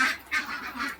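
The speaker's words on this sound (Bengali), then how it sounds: "এই হচ্ছে আমার হাঁসগুলো," Ducks in an enclosed farm of about 350 birds give three harsh, nasal calls at close range, spaced roughly evenly and heard alone.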